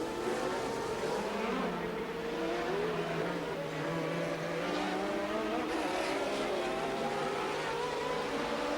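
Renault Formula 1 race cars from 1982 roar past in a race, overlapping engine notes sweeping up and down in pitch, loud and continuous, with a voice talking over them.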